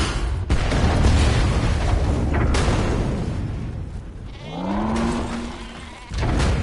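Goats bleating in Metal Gear Solid V, a wavering, drawn-out bleat rising out of loud rumbling game noise and booms, with the mix dropping briefly before the bleat.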